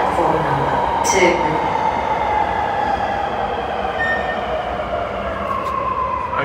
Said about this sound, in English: The train to Sydenham is going to enter platform number 2.